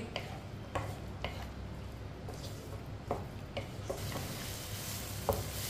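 Mutton frying in oil in a pot for kaddu gosht while a spoon stirs it, making a soft continuous sizzle broken by repeated light scraping clinks against the pot, close and fairly quiet with no talking.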